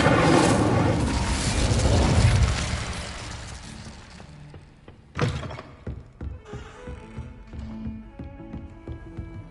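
Fire spells are cast in Hogwarts Legacy, opening with a loud roaring blast that fades over several seconds, then a sharp whooshing impact followed by scattered crackles and thuds as the flames die down.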